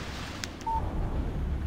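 A phone text message alert in the video game Alan Wake sounds once, a short clean beep-like tone following two faint clicks, over a low rumbling ambience.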